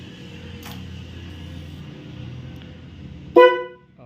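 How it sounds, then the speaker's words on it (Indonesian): A Honda CBR motorcycle left unused for three years gives a single short, loud honk of its horn, close by, after a stretch of low background rumble. "Klakson juga masih oke."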